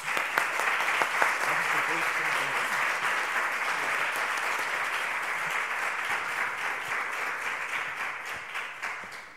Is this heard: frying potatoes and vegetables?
no